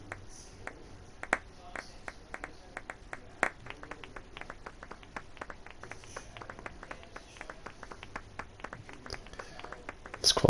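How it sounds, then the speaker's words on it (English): A sarcastic slow clap in the video game Final Fantasy VIII: sparse, sharp claps and snaps scattered across the clip, spaced unevenly over a quiet background. "it's our sarcastic slow clap"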